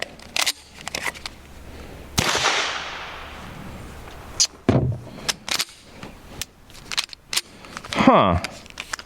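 Sharp, loud pistol shots from a Nomad Defense G26X firing cheap ammunition, a handful of separate cracks spaced irregularly with pauses between, close by, with a little background chatter.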